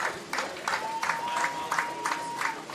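Fans at a college baseball game, Tampa against Nova Southeastern in the NCAA Tournament, standing and clapping in a steady rhythmic pattern of distinct claps, with a thin sustained tone running underneath.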